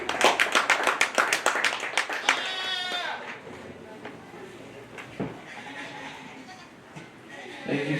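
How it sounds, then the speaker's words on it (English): An audience at a county fair dairy goat show claps in a burst of dense, lively applause that fades after a few seconds, leaving the murmur of the hall and a voice starting to speak. "let's give her a round of applause."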